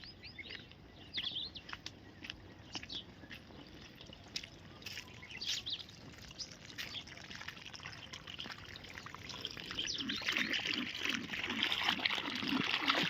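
Quiet trickling of irrigation water in a field with light splashes, building slightly louder toward the end, with occasional bird chirps in the open air.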